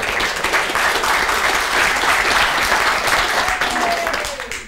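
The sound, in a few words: applause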